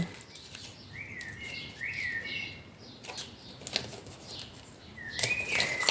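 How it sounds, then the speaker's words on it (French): Birds singing outdoors, a few short, fairly faint chirps and trills scattered over a soft background of rustling and light handling noise. "les oiseaux sont contents hein, dehors. Je sais pas si vous les entendez, mais ça chante, ça chante."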